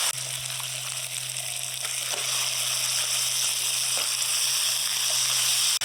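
Spice masala sizzles and fries steadily in a pan for a mutton head curry just before goat meat goes in, a loud continuous hiss without talk.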